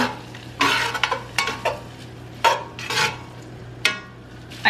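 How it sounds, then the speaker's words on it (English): A utensil stirs butter, parsley and lemon juice in a pan, making repeated scraping and clinking strokes over a soft sizzle. The sound is close and in an irregular rhythm, with no talking. "Put some butter in there. Put some parsley, and I'm gonna mix all of that together."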